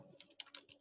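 Fingers tap quickly on a computer keyboard, a short burst of soft, close keystrokes over less than a second.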